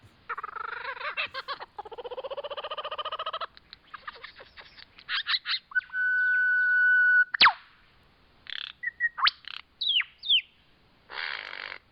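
Varied bird calls in an Australian setting: rapid repeated chirps, pure whistled tones, and buzzy trills, loud and close, following one another with short pauses and no talking.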